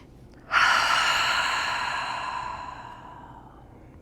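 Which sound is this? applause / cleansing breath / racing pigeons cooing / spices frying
cleansing breath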